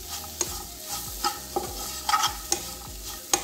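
Cashew nuts frying in a pan while being stirred, with repeated scraping strokes and light sizzling at a fairly quiet, close level, no voices.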